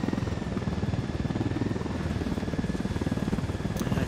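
A video-game helicopter in Ghost Recon Wildlands thumps steadily with rapid rotor beats, holding a constant, moderately loud drone throughout with no voices.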